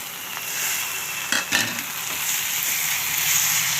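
Tomatoes and onions fry in a pan for a dried-fish thokku, giving a steady broad sizzle with a couple of brief louder scrapes or clatters near the middle, close by and with no talking.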